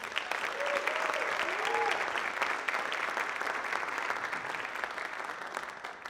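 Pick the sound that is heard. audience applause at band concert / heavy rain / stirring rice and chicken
audience applause at band concert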